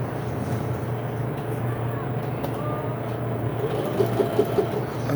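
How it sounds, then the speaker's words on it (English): A sewing machine runs steadily with a low constant drone under a busy background, picking up a few brief louder stitching bursts near the end. "We're sewing, we're moving."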